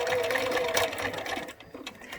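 A sewing machine stitching a fabric face mask, a fast steady mechanical whir close by that stops abruptly near the end.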